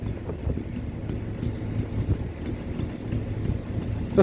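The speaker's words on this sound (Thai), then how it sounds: "นี่นะต้องเอาเครื่องสูบน้ำไว้แล้วน้ำก็ออก" A water pump engine runs steadily in a rice field, its low continuous drone heard outdoors alongside wind buffeting the microphone.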